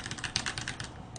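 Quick, light presses on a computer keyboard during a StarCraft game, a short cluster of soft clicks and taps heard close up and fairly quiet.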